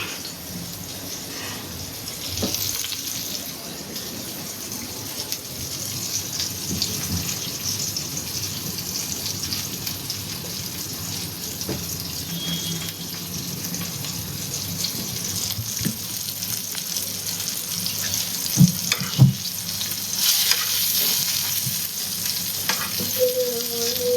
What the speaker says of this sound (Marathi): प्रॉन्स फ्राय झाला की काय झालं हे?